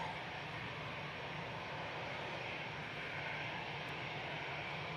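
An airliner coming in to land at Manchester Airport, its engine roar steady and broad, fairly distant and continuous throughout with no talk.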